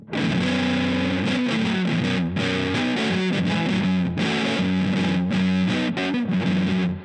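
Heavy fuzz from an Earthquaker Devices Hoof Reaper pedal with the tone knob rolled up drives a distorted electric guitar riff. The bright, gnarly, trebly sound comes in loud choppy bursts with short breaks, and no voices are heard.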